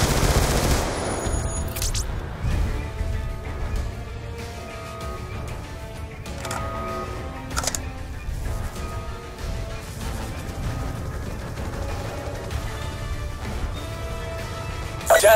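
Turrets in Call of Duty: Black Ops 2 fire sustained bursts of gunfire, rapid cracks rattling on and off over a steady battle rumble, with occasional louder impacts.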